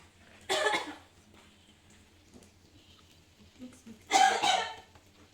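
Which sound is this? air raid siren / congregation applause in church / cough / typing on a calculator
cough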